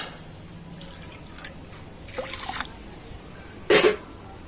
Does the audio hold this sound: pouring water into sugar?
yes